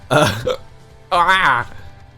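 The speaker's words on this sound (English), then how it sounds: "no, the hiccups" Two hiccups from a man, each a sudden voiced gulp with a short vocal tail, about a second apart, close and fairly loud.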